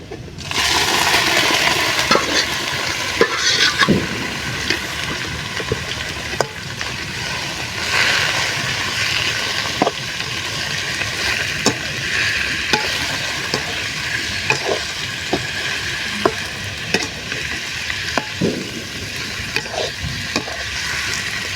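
Pepper chicken sizzles in a hot pan while a utensil scrapes and taps steadily through it, a constant close frying hiss with no talking.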